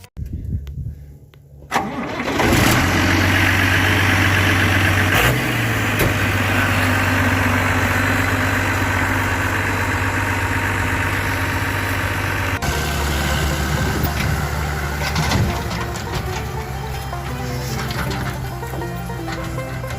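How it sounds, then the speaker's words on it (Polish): A John Deere 6600 tractor engine starts up and settles into a steady, loud diesel idle with a deep rumble that continues throughout, a slight change in tone partway. "I naprawdę powiem, że ten silnik ma taki swój charakterystyczny, fajny dźwięk."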